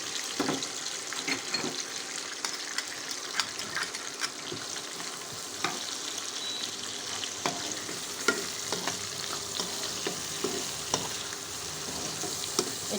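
Onions fry in hot oil for chilli paneer, a steady close sizzle punctuated by repeated scraping stirs of a spoon against the pan, with no voices.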